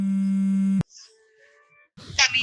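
An unanswered telephone call gives a steady electronic ringing tone that stops abruptly. A short quiet gap follows, and then a voice begins speaking.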